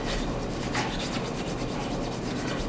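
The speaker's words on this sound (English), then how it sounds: "take one of the half and just use it to rub your hands all over" Half a raw potato is rubbed over the hands, giving a steady, close scrubbing and rasping texture with a quick repeating rhythm, loud and alone without talking.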